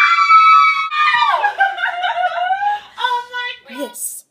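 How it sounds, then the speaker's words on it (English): Young women let out a loud, excited, rising shriek of "woo" that slides down, then breaks into higher squeals and giggly cries, close and bright over a few seconds. "This is the sound of the female bonding cry."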